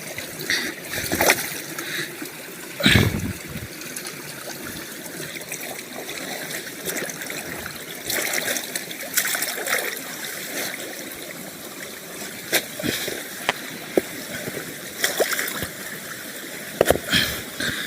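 A continuous rush of water in a hill-fed irrigation channel in Konkan, diverted toward farm fields, splashing and gurgling steadily, with occasional sharper splashes and clicks.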